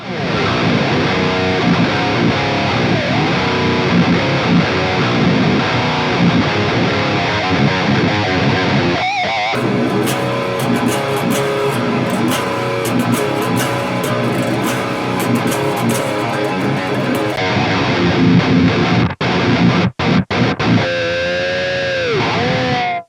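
Distorted electric guitar played through an amp modeler into a Bose S1 Pro speaker, continuous riffs and chords with shifting tones and effects, loud and upfront with no talking.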